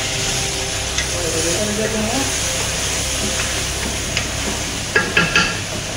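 Biryani being stirred in a pot after the lid is lifted, a steady steamy hiss running throughout with a few scraping clinks near the end, moderately close.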